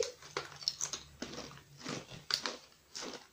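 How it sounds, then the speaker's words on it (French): Crunching of a crispy Korean tteokbokki-flavoured snack, a series of close, sharp bites and chews in irregular bursts, fairly quiet with no talking. "ça croustille bien, hein, j'entends là"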